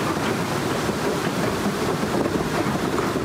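A stream swollen by heavy rain in the mountains of Nantou, Taiwan, rushes past in a steady, loud broadband roar with no break and no voices.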